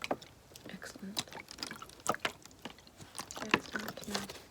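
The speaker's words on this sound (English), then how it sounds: "listen to the water" Water drips and splashes in an ASMR grounding session, with irregular close, soft plinks and small splashes scattered through a quiet background.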